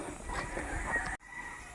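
Chickens clucking along a mountain trail on Mt. Manabu, a few close fowl calls over outdoor ambience before an abrupt cut.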